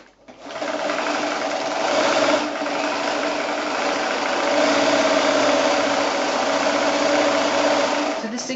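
A sewing machine runs steadily stitching a zigzag along the edge of fabric to overcast it, a continuous close whirring hum lasting several seconds without a break, with no talk over it.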